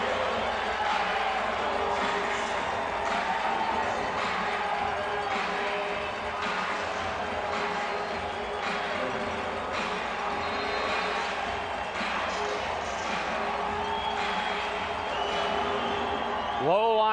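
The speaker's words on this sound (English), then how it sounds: "And the crowd's still into it now." Crowd noise at an arena football game, a steady sustained roar of cheering and whooping from a large audience filling the arena, under continuous play-by-play commentary.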